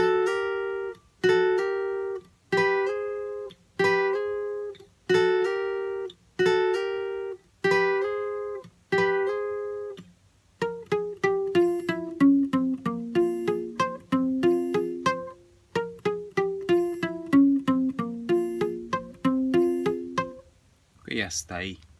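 Acoustic guitar plays the full intro phrase of a song: a steady run of evenly spaced plucked notes, then a quicker flowing melodic passage, close and clear with no voice.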